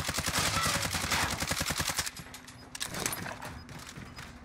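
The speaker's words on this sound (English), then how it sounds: "Who is shooting at me" Rapid bursts of automatic gunfire from the CR-56 AMAX rifle in the shooter game Modern Warfare, loud and dense for two seconds before thinning into scattered, more distant shots.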